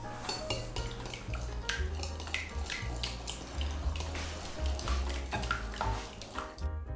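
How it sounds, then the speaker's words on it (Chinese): Egg yolks and soy milk are stirred together in a bowl, giving a quick run of close, rhythmic clinks and scrapes of utensil on bowl that continue steadily throughout, with no voices. "就把蛋黄和豆浆先搅拌均匀"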